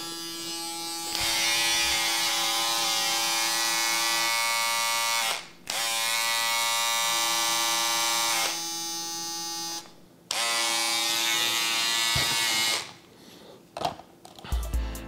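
A Braun Series 9 electric shaver buzzes loudly and steadily nearby, switching off briefly a few times before stopping with some handling noise at the end.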